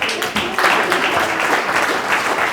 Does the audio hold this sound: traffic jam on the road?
no